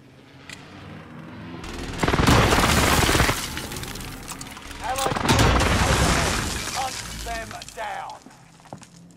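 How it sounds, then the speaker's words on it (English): Precision airstrike explosions in Call of Duty: Modern Warfare arrive as two loud, crashing bursts of booms and debris-like shattering, each lasting over a second, with a game voice and softer effects between and after them. "Enemy precision airstrike."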